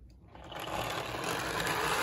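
A repaired HO scale DC model locomotive's small electric motor whirs, rising to a steady buzzing hum that sounds rough, close and alone with no talk.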